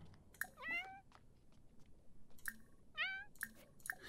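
A cat in The Sims 4 video game meows twice in clear, rising calls, with short clicks and light chewing-like noises between them against a quiet background.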